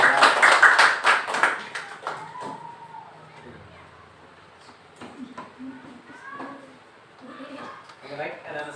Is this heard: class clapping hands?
yes